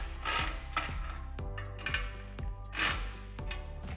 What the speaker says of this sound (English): Now we'll take a 15mm socket, going back and forth, tightening these down to put even pressure on our flange